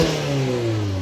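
A Mazda MX-5 RF 30th Anniversary Special Edition, 2019, with Skyactiv engine, revs briefly, its exhaust note rising in a steady, close, loud drone with no talk.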